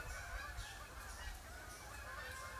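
A flock of Canada geese honks continuously outdoors on a clear day in Michigan. The calls are moderately distant and overlap steadily over a low rumbling background, with no talking.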